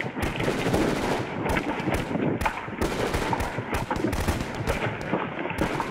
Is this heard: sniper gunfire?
yes